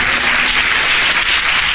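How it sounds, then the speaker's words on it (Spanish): Steady congregational clapping fills a church during a sermon, many hands at once in a dense, unbroken patter heard close and fairly loud. "Denle un aplauso al Señor."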